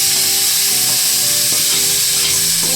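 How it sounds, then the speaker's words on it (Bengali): Chopped banana flower with green chillies fries in hot oil in a pan while being stirred, a loud steady sizzle with occasional spatula scrapes, close by and without talk. "এবার এটাকে ভালো করে কষিয়ে নেব।"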